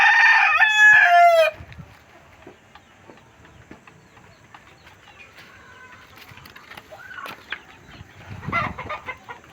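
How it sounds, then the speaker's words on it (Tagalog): A rooster crows loudly and close at a backyard yard full of fighting cocks, followed by scattered clucks and softer farm-animal sounds at a distance. "Ayan, maraming manok dito."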